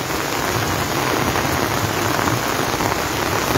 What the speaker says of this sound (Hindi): और अब धीरे धीरे बारिश जो है वो तेज़ रफ्तार पकड़ती हुई